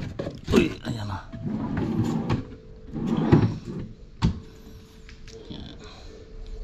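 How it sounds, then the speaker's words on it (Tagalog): Drawer sliding on newly installed drawer guides, giving a few short scraping and knocking bursts at close range, with people talking in the background. "Ito na, nailagay ko na yung drawer."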